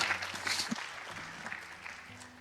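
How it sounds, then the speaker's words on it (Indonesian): Steady applause from an audience fills the space, a dense patter of many hands clapping at moderate volume. "berikan tepuk tangan buat mereka bertiga"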